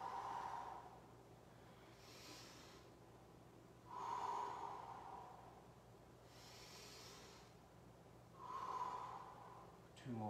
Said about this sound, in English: Inhale through the nose up, exhale through the mouth down